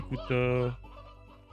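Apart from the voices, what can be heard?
chickens clucking in the video game Slime Rancher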